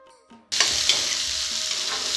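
Onions and ker berries frying in an oil-free pan over medium flame for a Rajasthani side dish, a steady loud sizzle that bursts in after a brief quiet moment and holds on with faint stirring.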